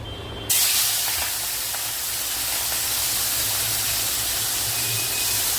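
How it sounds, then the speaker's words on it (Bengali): Live prawns dropped into hot oil all at once set off a loud, steady frying hiss that begins abruptly and holds at an even roar without a break. "আমি এখানে সবকটা চিংড়ি একবারে দিয়ে দিলাম। এরপরে আমি চিংড়িগুলোকে হালকা করে ভেজে নিচ্ছি।"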